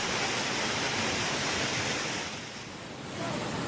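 Floodwater rushes down the Pavagadh temple path in a loud, continuous roar that stays close and unbroken throughout.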